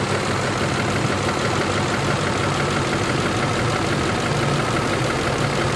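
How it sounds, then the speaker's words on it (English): A car engine idles steadily at close range, a continuous rumbling hum with a faint, even ticking from a slight engine tap mixed in. "maybe you can hear a slight little tap"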